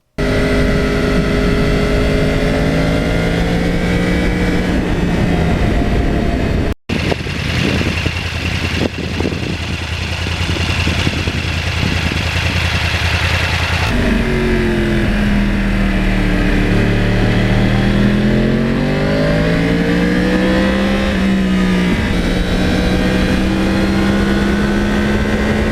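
A 2009 Yamaha R1 crossplane motorcycle engine idles and revs with a loud, continuous rumble, its pitch climbing and falling in steady swells with one brief cutout early on, and no talk.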